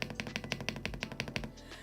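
A quick run of about ten crisp, evenly spaced taps on a freshly lubed mechanical keyboard spacebar, close and quiet, then stopping.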